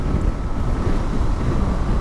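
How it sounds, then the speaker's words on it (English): Steady, loud wind roar buffets the microphone while a Honda XL750 Transalp motorcycle rides along a windy stretch of coastline at Camber, continuous and unbroken throughout. "Ooh, that does feel really windy, really quite noisy."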